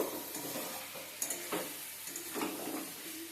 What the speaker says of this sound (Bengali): মাংসটা সিদ্ধ হয়ে গেছে, এরপর সামান্য একটু আমি কষিয়ে নেব